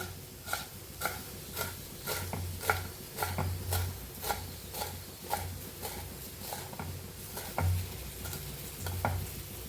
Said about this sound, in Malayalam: അപ്പോൾ ഇതേ മല്ലിയില കട്ട് ചെയ്യുന്നുണ്ട് കേട്ടോ